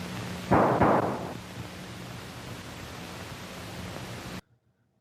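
A burst of gunfire from the film Manos: The Hands of Fate, a couple of quick, loud cracks close together in the desert, followed by a low hiss and steady hum before the sound cuts out.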